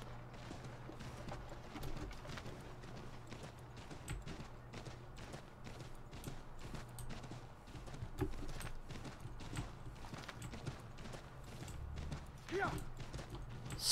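Horse hooves clip-clopping in the video game Assassin's Creed 3, a quiet irregular patter of footfalls under faint game ambience, with a player talking over it.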